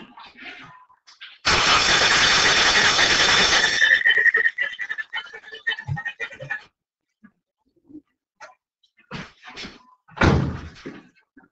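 A car engine with one spark plug removed to simulate a dead cylinder cranks in clear-flood mode, a loud burst of about two seconds, then fades into scattered faint clicks and a short later thump.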